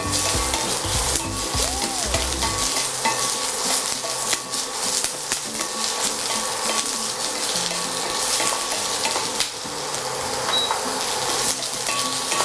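Onion and capsicum deep frying in oil for a paneer dish, a loud, continuous close sizzle with stirring and occasional scraping throughout.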